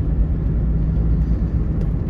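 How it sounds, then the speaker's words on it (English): Steady, loud low rumble of mud-terrain tires rolling on pavement under a 6.7 Ram Cummins diesel pickup, heard from inside the cab as a continuous drone with no talking. "The tires make a lot of noise on this truck,"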